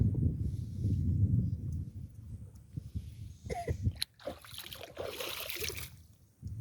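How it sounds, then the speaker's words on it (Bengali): Water splashes in a shallow wetland, the Ichamati beel in Lohagara, Narail, while water lilies are gathered. A run of close, choppy splashes and trickles comes after a stretch of low rumbling noise. "পানি ছিটাস কেন?"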